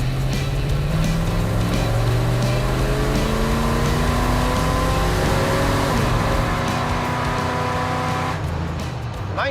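A Ford truck launches hard in a drag race, its engine roaring loudly and climbing steadily through rising revs for about eight seconds before the sound drops away.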